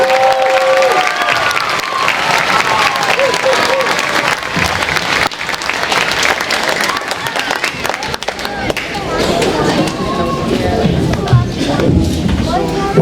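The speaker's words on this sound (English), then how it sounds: "A big round of applause for all of them." Audience applause after a school band concert, dense clapping filling the room steadily throughout, with some shuffling and crowd noise mixed in.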